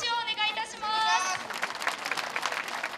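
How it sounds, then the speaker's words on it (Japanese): Crowd at the start of a half marathon on the Chikuma River, runners and spectators clapping in a broad, dense wash of applause and cheering after an opening tone-like melody, sustained and moderately loud. "マリコさんに大きな拍手をお願いいたします"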